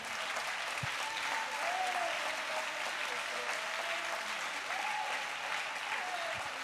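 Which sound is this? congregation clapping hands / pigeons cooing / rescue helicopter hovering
congregation clapping hands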